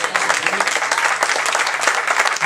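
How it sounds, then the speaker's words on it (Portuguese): A church congregation at a Pentecostal service breaks into loud, dense applause, continuous overlapping clapping filling the whole short stretch. "Você pode aplaudir o Senhor por isso?"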